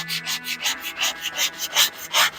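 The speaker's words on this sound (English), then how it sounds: "we just need to prep it and get it smooth. So I'm going to start off with the nail holes" Sandpaper rubs over nail holes in a wooden window frame in quick back-and-forth strokes, about ten rhythmic scrapes in a row, close and steady.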